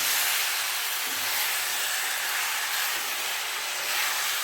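A pan of two small tomatoes sautés for a mutton and greens curry. The sizzle is a steady, even hiss throughout, with no voices.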